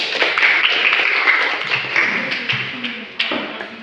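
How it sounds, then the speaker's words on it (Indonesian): A classroom group claps in scattered applause after a student presentation, a steady patter of many hands that fades toward the end, with a few voices mixed in. "Berikan aplaus."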